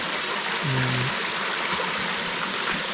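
Clear water of a stream flows steadily over a clay bank near a waterfall at Phu Pha Man, a constant broadband rush close by, with a brief low tonal hum partway through.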